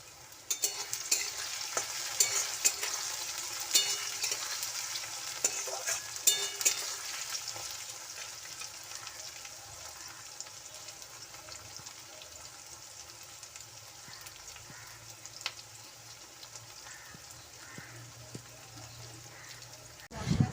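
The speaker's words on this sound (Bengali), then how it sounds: "পেঁয়াজ ভাজি," Onions fry in oil in a pan for a home-cooked jackfruit and egg curry, giving a steady, fairly quiet sizzle with occasional stirring scrapes across the whole stretch.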